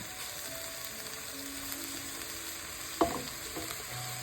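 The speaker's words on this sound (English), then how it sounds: "Just stir it around, mix it all up." Shrimp fried cauliflower rice with soy sauce, edamame and leftover street corn is stirred around in a pan, with a soft steady sizzle, a few scraping clicks of the utensil and one sharper clack near the end, no talking.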